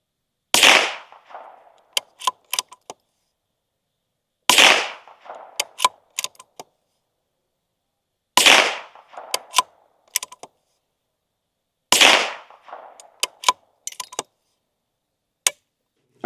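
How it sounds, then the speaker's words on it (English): Four loud rifle shots fired with Federal Auto Match ammunition at an outdoor range, spaced about four seconds apart, each a sharp blast followed by a ringing tail and scattered echoing clicks, with a final faint crack near the end. "We're just going to take like 5 shots at it"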